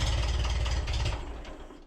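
A vintage Ferguson tractor engine cranks and sputters while trying to start, a loud, rough, low rumble that holds steady and then fades toward the end without catching.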